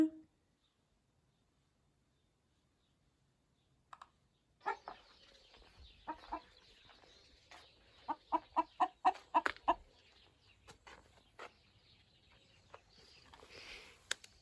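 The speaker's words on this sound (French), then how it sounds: "elle chantait pour nous dire qu'elle a pondu" A hen cackling after laying an egg in a countryside setting, a quiet start giving way to a run of loud, rapid, rhythmic clucks that peak midway and continue more sporadically, close to the listener.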